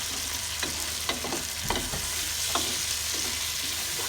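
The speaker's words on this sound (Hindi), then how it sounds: "अब इसको अच्छी तरीके से फ्राई करेंगे कि ये सॉफ्ट हो जाए और अच्छी तरीके से गल जाए।" Tomatoes fry in a pan with a constant broad sizzle, punctuated by several clinking scrapes and taps of a spoon stirring against the pan, close and clear with no talking.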